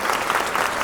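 Audience applause welcoming a film's lead actor on stage, dense and loud, a continuous wash of clapping hands.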